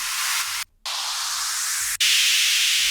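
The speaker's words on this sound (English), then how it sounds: "And like white noise as well." Steady broadband hiss of white noise, loud and even, broken by a short silent gap and a brief cut before continuing slightly louder.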